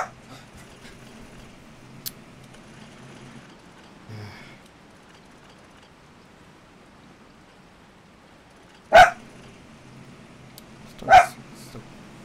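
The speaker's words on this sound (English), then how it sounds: "Dog is on the constant rampage." A dog in the video game Resident Evil 4 barks twice in sharp, loud bursts a couple of seconds apart over a quiet game background.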